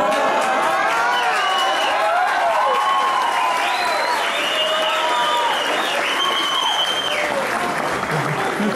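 Wedding guests applauding and cheering at a ceremony, a dense, sustained wash of clapping with excited voices and whoops riding over it throughout.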